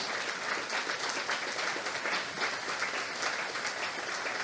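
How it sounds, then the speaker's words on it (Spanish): A church congregation claps for the Lord, a continuous, even roar of many hands applauding together without a break. "Y si vas a darle más fuerte palmas al Señor."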